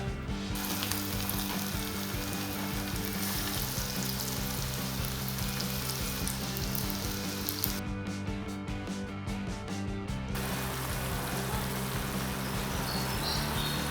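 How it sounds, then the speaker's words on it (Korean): Potato croquettes coated in flour, egg and breadcrumbs deep frying in hot oil, a steady, dense crackling sizzle that continues without a break, close and fairly loud. "자 이제 기름에 튀겨주겠습니다."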